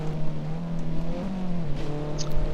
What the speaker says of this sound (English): I like the car sliding out of the hairpin